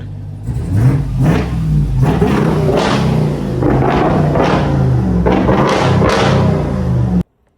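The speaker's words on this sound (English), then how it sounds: "let's hear that exhaust real quick" Hellcat-powered truck exhaust blaring through a run of loud, close revs, each burst climbing and dropping in a throaty rumble before cutting off abruptly near the end. No one talks.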